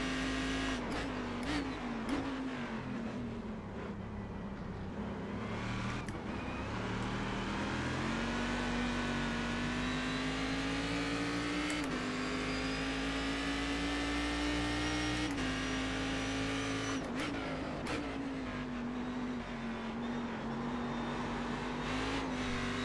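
Cadillac CTS-V.R race car in the iRacing sim at Zolder, its engine droning loudly and steadily throughout, pitch rising and dipping with gear changes and throttle, with no voices over it.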